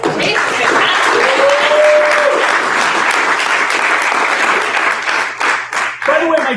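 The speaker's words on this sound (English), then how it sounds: "I do want a round of applause because Jay's fantastic." Audience applause at a marketing mixer event, a loud, sustained round of clapping that thins slightly toward the end, with a brief voice or tone briefly showing through the claps.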